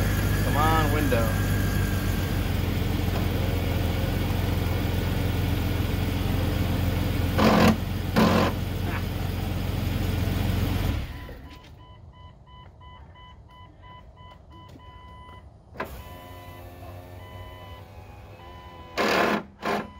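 A Jeep Cherokee XJ power window regulator motor, with a bad regulator, whirs loudly for about eleven seconds, then stops. Quieter clicks and a brief voice follow.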